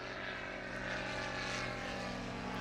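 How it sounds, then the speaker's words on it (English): A propeller airplane flies over an outdoor shooting range, a steady droning engine hum with a harmonic buzz, moderately loud and continuous without a break. "We'll pause for the airplane to go over."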